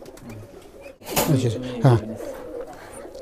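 An imported pair of royal pigeons from Pakistan in a pigeon loft gives two close, full throaty coos in quick succession over low background noise, with a brief word spoken just before.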